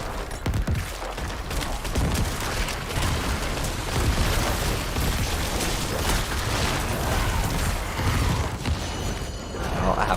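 Corpse explosion skill in Diablo 4 going off: a steady, loud wash of overlapping bursts and booms with crackling debris, repeated without pause through the combat, with a little faint talk.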